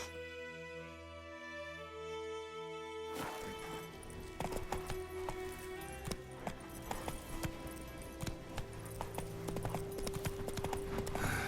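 Hooves of the horse Roach clip-clop at a steady gallop in the video game The Witcher 3: Wild Hunt, loud and continuous over layered game music and ambience, with a sustained tonal drone in the opening seconds before the hoofbeats start.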